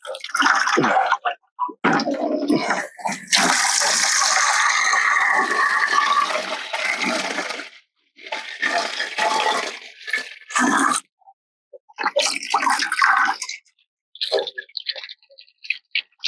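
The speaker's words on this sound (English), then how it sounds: "There's a lot of stuff just pouring out of here." Water and loose sediment gush and splash out of a partly opened drain on an RV hot water tank holding about six gallons, loud and close, in uneven bursts with short gaps.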